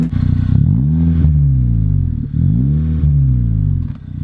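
A 2018 Honda Fit Sport fitted with a Spoon N1 axleback exhaust revs close by, its steady drone swelling and falling through three rising throttle blips, loud and continuous with no talking.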